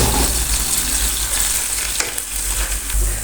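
Onions browned with ginger, green chilli, salt, turmeric and home-ground red chilli frying in a pan for carrot bhartha, a loud continuous sizzle with stirring scrapes and no talking.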